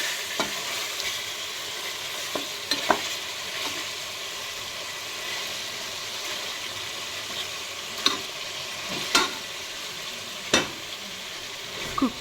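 Chicken pulao ingredients being stirred in a pressure cooker, a continuous sizzling hiss broken by several sharp scrapes and knocks of the spoon, close and fairly loud.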